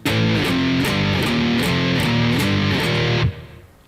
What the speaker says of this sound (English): going to get onto the 6th string here with some power chords